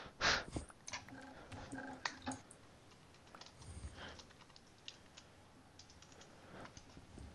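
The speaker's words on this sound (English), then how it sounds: "Feel like you're typing in a very mean message to Zach." Fingers tap out a message on a computer keyboard while playing Minecraft on PC, the keys giving quiet, irregular clicks in short bursts with pauses between them.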